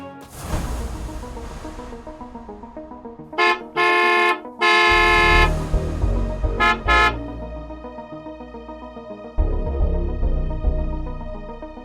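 A car horn honks repeatedly in short and longer blasts, loud and close, over a low background rumble with a pause between bursts.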